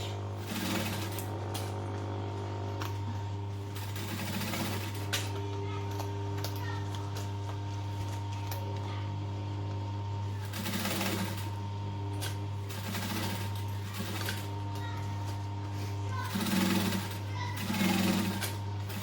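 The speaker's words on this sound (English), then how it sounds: "Make sure I back stitch." A sewing machine stitches and back stitches a fabric bag with a steady motor hum and a run of needle rattles that rise and pause. A voice can be heard now and then over it.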